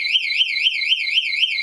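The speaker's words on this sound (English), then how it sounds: "when I attempt to use this, again an alarm can be sounded" An access control alarm sounds after an unauthorized card attempt on a server rack security system, a loud, piercing electronic tone warbling up and down in rapid regular sweeps throughout.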